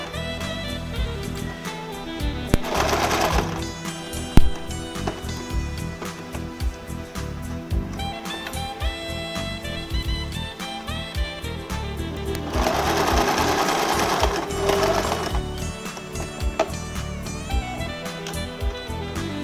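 A sewing machine stitches the closed box of a box pleat skirt in fast, rattling mechanical runs. Louder bursts of stitching come between quieter pauses, with faint handling sounds.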